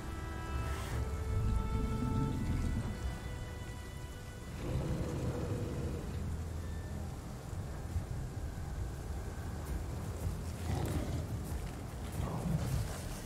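Rain falling in a dinosaur survival video game, a steady wash of rainfall with low rumbling beneath and a few faint tonal chimes, alone without speech.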